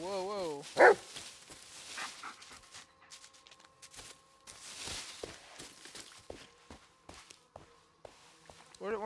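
A dog barks in the Blair Witch video game, with a few sharp barks and panting among footsteps on forest ground and other game sounds, while a player talks over it.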